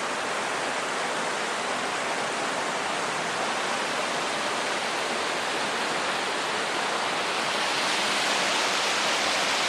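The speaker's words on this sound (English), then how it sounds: "There's the running water you can hear." Running water in the Grand Canyon, a steady, dense rushing roar that holds even and unbroken throughout, close and loud with no voices over it.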